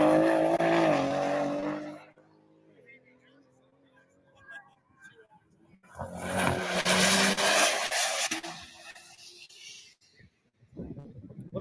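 Race cars lapping Hallett track, a loud engine pass with shifting pitch and tire rub, fading to a quieter distant car, then a second roaring pass and another car arriving.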